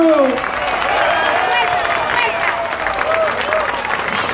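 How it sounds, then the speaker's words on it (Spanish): A crowd claps and cheers steadily in a dense wash of applause at a Puerto Rican troubadour festival in Dorado, with a voice calling out over it in Spanish at the start. "Oye, apláudalo, apláudalo."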